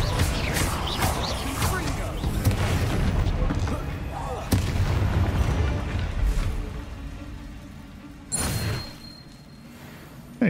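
Bombarda spell blasts in Hogwarts Legacy, heavy booming explosions and crashes layered over dense battle noise and a voice, with a sharp loud burst near 4.5 seconds and another strong blast around 8.4 seconds as the din thins out.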